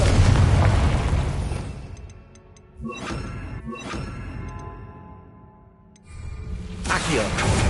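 Confringo fire spell in Hogwarts Legacy, a loud fiery burst followed by two sharp booming impacts and a rising whoosh near the end, with a voice casting the spell.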